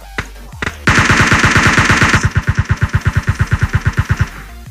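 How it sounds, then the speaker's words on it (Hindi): Rapid automatic gunfire in the PUBG Mobile battle royale game, a long loud burst of close shots firing in quick even rhythm for nearly four seconds. "यहाँ पे एक बंदा भी होता है जो किसी पे फायर कर रहा था"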